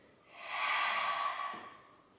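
One long, steady breath exhaled through the mouth during a beginner Pilates leg-and-arm reaching exercise, rising and fading over about two seconds, close and soft, with no talking.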